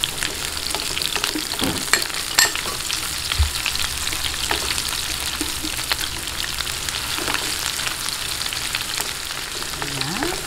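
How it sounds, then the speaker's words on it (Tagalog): Garlic and onion sauté in a pan for bangus binagoongan, a loud continuous sizzle with occasional stirring scrapes and taps throughout, with no talking. "Isa-gisahin lang po hanggang mag-light brown. Okay, ang sibuyas."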